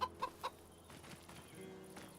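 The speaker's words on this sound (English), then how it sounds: "we got chickens over here" Chickens cluck in a Farming Simulator 25 homestead at dusk, three quick close clucks up front followed by softer, fainter murmuring clucks in the background.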